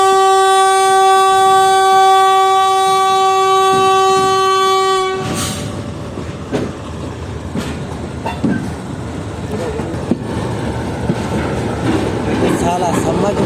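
The 41 Up Karakoram Express between Karachi and Lahore departs from platform 4: a long, loud, sustained horn blast, then a lower rumble of rolling wagons and clattering wheels, with faint background activity.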